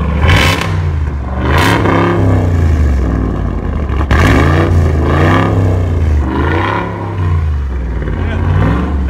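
A supercharged 6.2-liter Hemi V8 in a Ram Rebel TRX pickup revs repeatedly, loud and close, with the engine pitch swooping up and down in several rising and falling bursts and a strong low rumble throughout.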